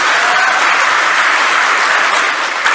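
A large crowd applauds a speaker at a public address, producing loud, dense, continuous clapping that stays even throughout with no voices.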